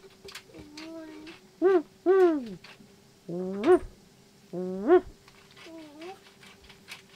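A child imitating an owl, giving several breathy rising-falling hoots in a row, close and fairly loud, with pauses between and a low steady hum underneath.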